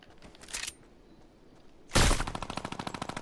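A sniper rifle fires in Fortnite, a sharp close report after a brief earlier burst, followed by rapid repeated gunfire crackling steadily to the end.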